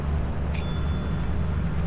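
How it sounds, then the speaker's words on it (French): A single bright ding of a doorbell in the video game Lethal Company rings once, sharp and clear, then fades over a steady low background hum. "va sonner à la sonnette encore"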